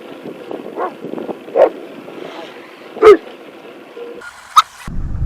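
A dog barks at a passing cyclist on a mountain road during a bike climb, giving a few sharp, separate barks and yips amid wind noise and background sounds.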